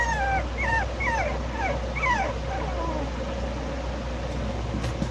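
Dog whimpering in a string of high, thin whines and yips, close and fairly loud over a steady engine-like hum, the cries trailing off toward the end.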